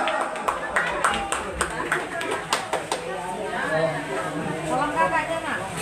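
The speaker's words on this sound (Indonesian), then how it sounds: "Beri tepuk tangan yang meriah," After a sholawat song, an audience gives a few scattered hand claps that quickly give way to murmuring chatter and talking voices.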